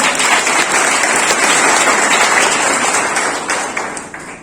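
A crowd of audience members at a police seminar applauds, dense steady clapping close and loud that begins to fade near the end.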